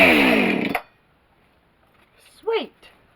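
A cold chainsaw fires on the first pull and buzzes loudly at close range for under a second before cutting out, leaving quiet; a short voice follows near the end.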